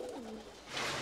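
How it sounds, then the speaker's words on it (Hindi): A golden pigeon gives a single short gliding coo, close and fairly soft, followed by a breathy rustle. "ये है गोल्डन कबूतर"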